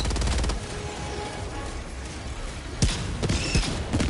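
Rapid bursts of video game gunfire fill the first half second, followed by a dense wash of game noise and several sharp, close shots near the end.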